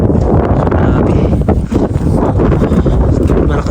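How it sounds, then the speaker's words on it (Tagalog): Strong wind roars steadily into the microphone in Nuuk, Greenland, a dense continuous rumble with gusty buffeting throughout. "Malakas pa yung hangin ngayon"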